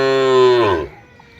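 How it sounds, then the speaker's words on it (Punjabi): A Cholistani Friesian cross dairy cow gives one loud, close, drawn-out moo that falls in pitch and fades, with no talking over it. "ਹੁਣ ਗਾਂ ਸਿੱਧੀ ਹੋ ਗਈ ਹੁਣ ਖਲੋ ਜਾਏਗੀ"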